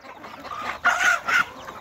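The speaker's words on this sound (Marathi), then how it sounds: "बघा आता तुम्हाला हे कोंबडी दिसत आहे" A free-range country hen clucks close by, with a few short, sharp clucks in quick succession and nothing else behind them.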